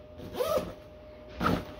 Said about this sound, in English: zipper her up.